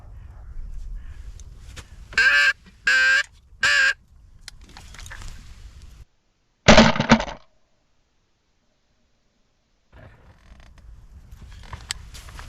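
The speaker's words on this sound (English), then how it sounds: "Wasn't a crow, it was a jackdaw" A jackdaw gives three sharp, close caws in quick succession as it flies in during crow and pigeon decoying outdoors, then a clack of handled gear follows before near silence.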